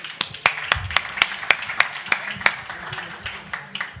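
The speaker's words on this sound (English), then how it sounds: "Come give them a round of applause" Audience clapping at a packaging trade fair panel discussion as panellists come on stage: sparse, distinct individual claps in a steady rhythm rather than a full ovation, moderately close.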